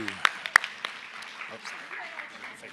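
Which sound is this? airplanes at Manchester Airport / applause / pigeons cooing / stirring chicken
applause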